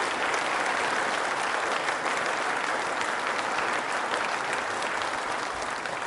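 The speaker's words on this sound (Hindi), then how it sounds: "तालियां जोरों से बजाइए रमेश शर्मा साहब के लिए" A hall audience at a quiz show for trainee state service officers gives Ramesh Sharma a steady round of applause, dense and sustained clapping from many people that holds at an even level throughout.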